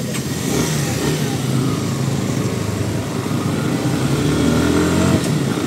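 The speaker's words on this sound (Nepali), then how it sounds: "बाइक स्टार्ट हुने" Close motorcycle engine starting and running with a steady, throbbing drone that swells slightly as it revs.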